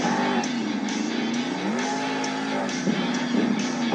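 The Megalodon monster truck engine roars loud and continuous at a stadium Monster Jam event during a sky wheelie attempt, its pitch swelling and dipping as the throttle is worked.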